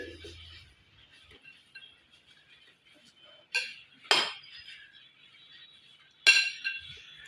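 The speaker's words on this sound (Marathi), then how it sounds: "सर्व साहित्य मिक्स करून घेऊ" Ingredients for a fasting bhel being mixed in a bowl: a spoon scrapes and clinks against the dish, with a few sharp, louder clinks standing out over quieter stirring.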